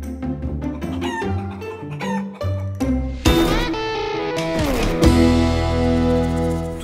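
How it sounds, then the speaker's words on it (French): Chickens cluck outdoors beside a tiny house, a run of varied, fairly close calls from several birds that continues steadily throughout without any talking. "Comment ça va les poules?"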